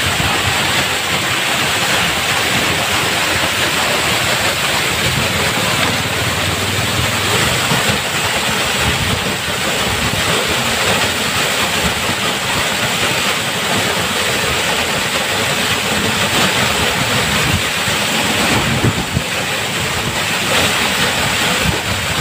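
A waterfall in Dalhousie, Himachal Pradesh roars as a loud, steady broadband rush throughout, with no voices.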